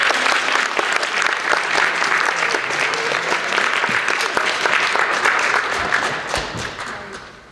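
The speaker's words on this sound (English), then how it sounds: "So let's give our local Rotary judges a round of applause." An audience gives a round of applause for local Rotary judges at a speech competition, a sustained burst of dense clapping that stays loud before fading toward the end.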